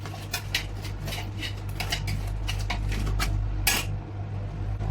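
Yogurt being stirred into chicken in a metal pot for a chicken pulao: repeated scraping and clinking of a spoon against the pot, close and busy, with a steady low hum beneath.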